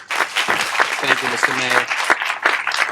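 Audience applause at a community health center event with Quincy city and school officials, a brief patter of clapping beneath someone speaking clearly into a microphone.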